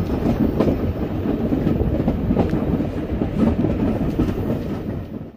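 Steam train on the Isle of Wight railway rolling along, a steady loud rumble of carriages with faint clickety-clack from the wheels over the rails, continuous throughout.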